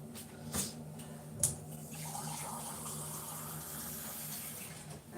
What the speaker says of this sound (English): I'm going to have to add a wee bit more water